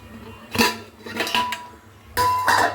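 Soaked urad dal is washed in a metal pot, with a few close clanks and scraping knocks of the vessel coming in short bursts and no one speaking.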